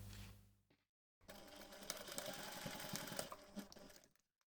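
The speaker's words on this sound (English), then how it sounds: "take this to the machine and baste them together." A sewing machine bastes webbing strap connector pieces together, starting after a brief silence and running as a close, steady rapid whir for about three seconds before stopping.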